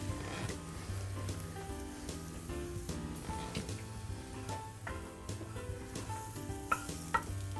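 Food sizzles and roasts in a pan of butter with rosemary needles, a steady close frying crackle with occasional sharper pops and stirring sounds, with no talk over it.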